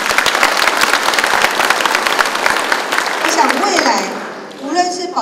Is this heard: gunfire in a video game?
no